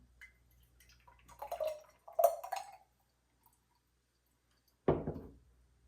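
Kefir is poured gently into a clean fresh jar, giving soft, wet glugs and drips in a few short bursts, then a brief clunk of the jar near the end, all quiet and close.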